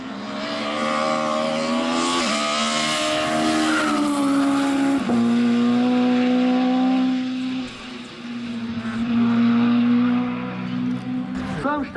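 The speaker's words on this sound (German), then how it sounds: "auf ein BMW 2002 8-Ventiler" A BMW 2002 eight-valve race car at the Pöllauberg hill climb in Austria, its engine revving hard and close through several gear changes with sustained high-pitched pitch sweeps and brief tyre squeal.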